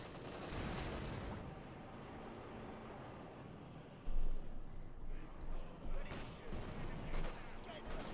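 Machine gun fire crackles in bursts across a Company of Heroes 2 battle between Wehrmacht and British forces, a Vickers gun firing from the flank, with explosions and steady battle noise around it.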